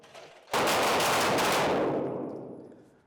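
A single sharp pistol report at a police academy shooting range drill bursts out loud and close, then its echo rings and decays over about two and a half seconds.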